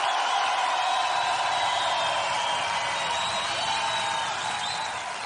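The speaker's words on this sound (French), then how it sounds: "Mesdames et messieurs, vous pouvez applaudir très très fort." Studio audience applause on a French television entertainment show, a steady dense wash of clapping with some cheering, sustained at even loudness throughout and tapering slightly at the end.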